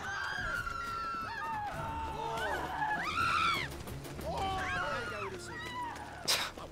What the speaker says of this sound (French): Ça crie hein.